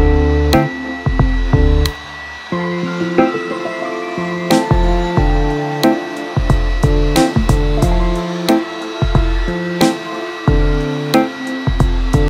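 An electric blow dryer running steadily while drying a freshly washed car and its door jambs, producing a continuous whining hum broken by frequent sharp knocks and clicks close by.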